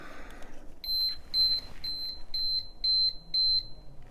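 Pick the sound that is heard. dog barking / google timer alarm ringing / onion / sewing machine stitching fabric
google timer alarm ringing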